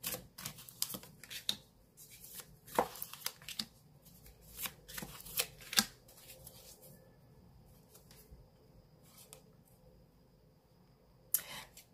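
Tarot cards being shuffled for a reading, a series of crisp riffling and snapping bursts with quiet pauses between them, close and clear, with no talking.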